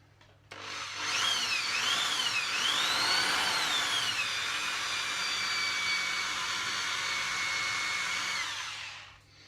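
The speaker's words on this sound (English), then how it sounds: "A metal drill bit struggling to go through" A power drill drives a metal bit into marinated pork, its high whine climbing and dipping unevenly as the bit bogs on gristle, then settling into a steady strained drone for several seconds before cutting off, close and loud.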